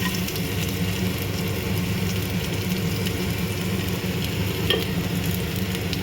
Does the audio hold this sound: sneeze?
no